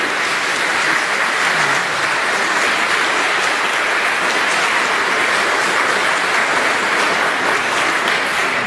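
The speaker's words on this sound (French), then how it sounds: "Puis on pourrait les applaudir." Congregation applauding during a Catholic Mass, loud, dense and continuous clapping that fills the whole stretch with no talk over it.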